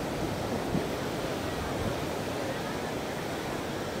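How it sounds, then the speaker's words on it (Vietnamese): Ocean waves at My Khe beach in Da Nang make a steady, broad wash of surf, continuous and moderately loud with no distinct breaks, mixed with wind noise. "Biển Mỹ Khê đẹp quá."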